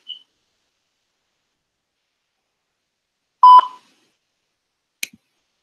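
Phone call electronic tones reaching voicemail: a tiny short beep, then after near-silence a louder tone burst and a brief final click, isolated and sparse.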